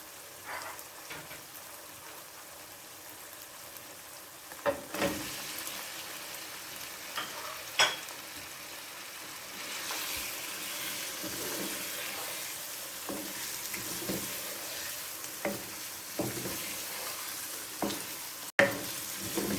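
Chicken sizzles and fries in hot oil with onions for an aloo chicken curry, a steady crackling hiss with occasional sharper pops and stirring clatter, close and alone.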